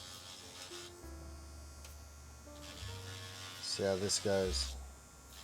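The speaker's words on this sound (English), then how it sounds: "Just going to grind my way down to the copper." A small rotary grinder cuts down to the copper on the circuit board of a Rode Wireless Go 2 microphone that won't turn on. Quiet on-and-off whining buzzes sit over a low electrical hum, with a brief spoken phrase.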